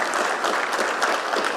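An audience at a forum speech breaks into steady applause, a brief even wash of clapping heard from within the room.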